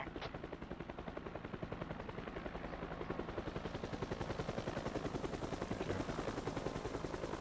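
A military helicopter in a video game, its rotor chopping in a steady rapid rhythm at moderate distance, quiet overall, with faint gunfire mixed in.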